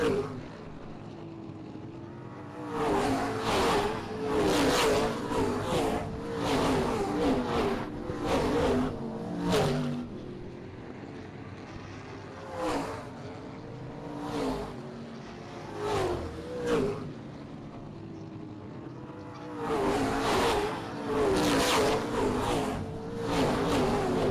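Race cars on the oval track at Springport Motor Speedway scream past in repeated waves, engines rising and falling as each bunch roars by, with short quieter gaps between passes.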